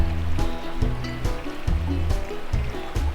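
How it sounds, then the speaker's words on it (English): A river with a strong current in the Victorian High Country, rushing water at moderate loudness under a repeating low musical pattern, with no talking. "So I'm not going to do this river crossing today. It's quite a strong current"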